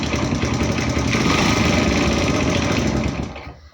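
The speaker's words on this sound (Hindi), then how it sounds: "तो ये मेरी बाइक प्रॉपर स्टार्ट हो चुकी है।" A TVS XL BS6 fuel-injected moped engine runs steadily just after starting, a close, buzzy idle with a busy rattle that holds evenly, then fades as it is shut off at the end.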